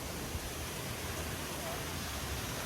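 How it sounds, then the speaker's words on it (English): A waterfall, Tasty Trout Falls near Weldborough, roars as a steady dense broadband rush of falling water, loud and unbroken throughout. "I see the waterfalls."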